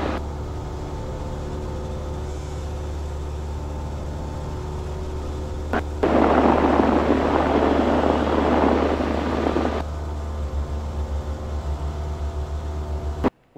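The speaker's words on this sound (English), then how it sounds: "Taking off from runway 22, staying in the pattern, Claremont County. Full throttle, drop to the full right rudder." A small propeller airplane at full throttle taking off from runway 22 at Claremont County, a steady close engine drone with a burst of rushing noise midway, heard from the cockpit without speech.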